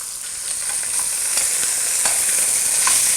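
Beef shanks searing in a hot pan, giving a steady, bright sizzle that holds at an even level throughout with faint crackles and pops, close up with no voices.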